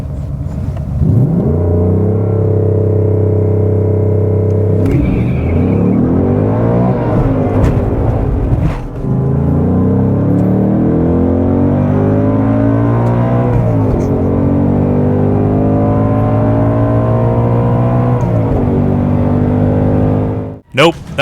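A car launching from the line with the engine held at 4,000 RPM and the wheels spinning, a loud steady engine drone with rising and shifting harmonic sweeps for most of the clip, ending abruptly.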